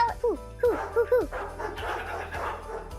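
A dog gives several short yips and whiny barks in quick succession near the start, then quieter whimpering follows under a steady background hum.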